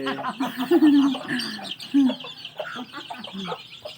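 Chicks clucking close by in short, busy bursts while being fed termites, with a person talking intermittently over them.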